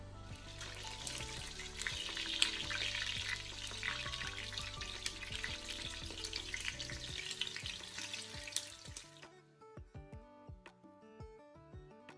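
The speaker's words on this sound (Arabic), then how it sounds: "نقليو الفلفل تاعنا كالعاده" Peppers fry in hot oil in a pan for Tunisian fish couscous, a dense, steady sizzle and crackle for most of the stretch that then drops to quieter scattered pops and clicks.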